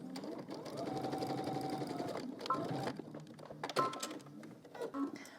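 Sewing machine stitching a skirt seam up to existing stitching with a zipper foot, a close rapid whirring run with brief pauses and short bursts near the end.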